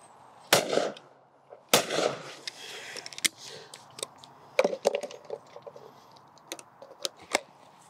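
A side by side shotgun fires at clays outdoors, with two sharp loud reports early followed by scattered fainter cracks and clicks of handling.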